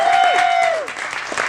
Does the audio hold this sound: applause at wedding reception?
yes